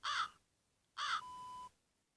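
A person vocally imitates a crow, giving two short nasal caws about a second apart, the second drawn out into a thin whistling tail, close and clear against a quiet room.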